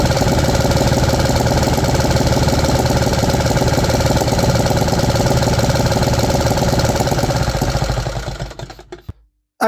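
A 3D printed engine with a carburetor runs loud and rough, a steady knocking idle with strong shaking, then sputters and dies near the end, leaving silence.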